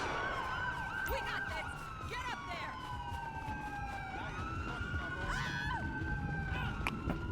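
Police backup sirens in the LSPDFR video game wail continuously, several overlapping tones rising and falling at moderate distance over a steady low rumble of traffic and engine noise, with a voice briefly talking.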